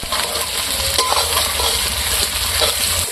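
Five chopped onions fry and sizzle in a pan for a village-style pangas fish curry, a steady close hiss with faint scraping stirs throughout.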